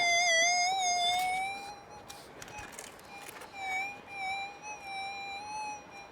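A high, wavering metal detector target tone from a Minelab GPX 2300 with bright harmonics sounds steadily, dipping and rising in pitch, over faint outdoor rustling and scraping while gold prospecting on a mountain.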